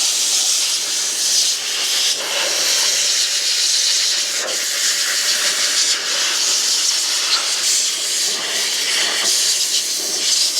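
Continuous loud rushing hiss of an air blower clearing debris from a very large RC car, with slight pulsing in the airflow and no talking.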